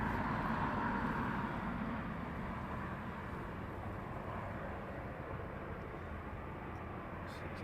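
Aircraft taxiing along an airport runway at night at East Midlands Airport, a steady broad low engine rumble and hiss held at constant level throughout, distant and continuous with no speech.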